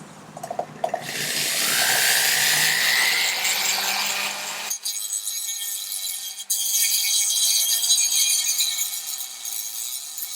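A power tool cuts off thin, worn sheet metal on a restored Jeep-style vehicle, a loud close screeching whine that drops in pitch partway through, then a continued grinding buzz with brief interruptions.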